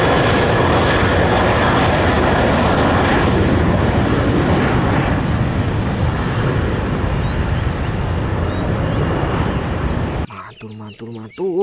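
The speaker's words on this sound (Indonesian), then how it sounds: "Wow, ini pesawat terbang." A toy airplane gives off a loud, steady buzzing engine drone that holds for about ten seconds, then cuts off abruptly into a brief, different electronic sound.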